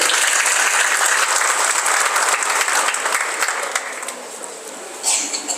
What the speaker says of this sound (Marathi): सगळे एकदा जोरदार टाळ्या वाजवा त्यांच्यासाठी